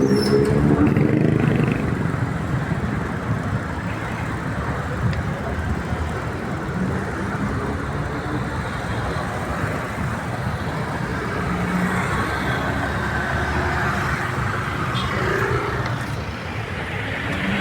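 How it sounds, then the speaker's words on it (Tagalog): Road traffic rumbles steadily around a cyclist riding home after work, a dense, loud mix of cars, motorcycles and larger vehicles passing close by throughout. "May traffic."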